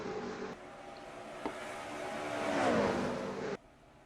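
Stock cars in a NASCAR-style racing game's Southern 500 roar through turns 3 and 4, a steady engine drone that swells with a rising-then-falling pitch sweep near the end before cutting off abruptly.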